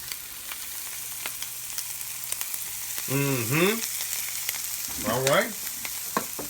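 An omelette seasoned with sausage seasoning fries on a hot stove, giving a steady close sizzle with a couple of brief spoken interjections over it.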